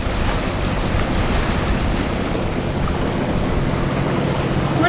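Strong wind and waves buffet a sailboat off Martinique, a constant loud roar of gusts and water wash with microphone wind rumble, no talk.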